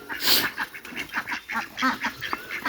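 Ducks quack in short repeated bursts while feeding on rice and paddy in an open-air yard, the calls close and fairly clear with a faint voice in the background.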